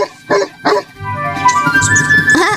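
A dog in a children's cartoon barks twice in quick succession, close and loud, then whimpers and whines in a long, high-pitched drawn-out cry.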